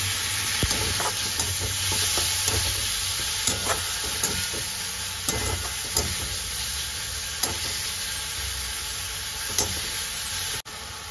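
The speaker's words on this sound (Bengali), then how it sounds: "লঙ্কা গুঁড়ো, সামান্য একটু চিনি, সব কিছু দিয়ে আমি একটু মশলাটাকে কষে নেব।" A spice mix of turmeric, chilli powder and a little sugar sautéed in a pan for jackfruit kalia, a loud, continuous sizzle with occasional scraping stirs and clicks.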